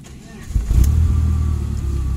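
A 1993 BMW 318i E36 with the M40 engine and automatic gearbox cranks and catches, then settles into a steady low idle, heard close up with no talk over it.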